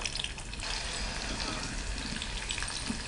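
Onions drop into hot oil in a pan for veg biryani, giving a dense, continuous sizzling hiss that stays loud and even throughout, with faint kitchen clatter underneath.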